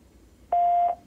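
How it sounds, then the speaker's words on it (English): A single steady keypad tone from a VoIP desk phone sounds for about half a second, clear and close, while the extension 7-1 is dialed. "I just go to any phone, dial 7-1."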